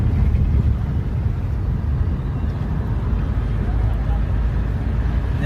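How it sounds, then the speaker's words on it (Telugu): A car engine runs steadily while driving during a driving lesson, giving a constant low rumble with broadband road and wind noise throughout, with no talking. "ఇంజన్ సౌండ్ వస్తుంది కదా."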